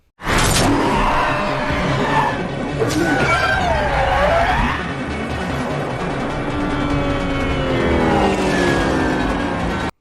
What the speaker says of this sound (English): Even the sound of a car revving in reverse, there's something really eerie about it.